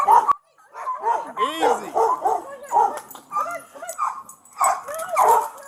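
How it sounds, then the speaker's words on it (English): A dog charging toward a police officer at a residential house whimpers and yips in close, repeated high-pitched cries and short barks, with a voice speaking over it throughout. "the dog's back here"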